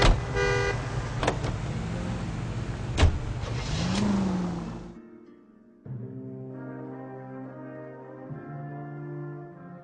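A car drives in L.A. Noire, its engine humming steadily and close for about five seconds before cutting out briefly, then a steady tonal drone resumes, with no one talking.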